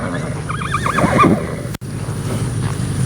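A loud horse whinny with a wavering, trembling pitch rings out close by, then fades into low rumbling background noise.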